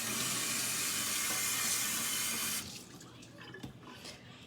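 Water runs from a kitchen tap for washing tofu in a steady hiss, close and loud, then cuts off partway through, leaving faint drips and quiet clatter.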